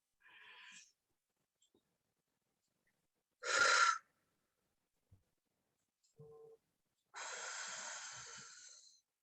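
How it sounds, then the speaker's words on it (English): Slow deep breaths during a guided breathwork exercise, a few long inhales and exhales with pauses between them, close and clear with no talking. "About 5 more nice deep breaths"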